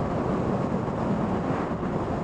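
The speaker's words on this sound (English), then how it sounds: "you get down here and it's just windy. It's perma wind." Strong coastal wind near Bangor buffets the microphone of a rider on an RSV4 motorcycle, a steady, loud, low rumbling roar that fills the whole clip with no voices.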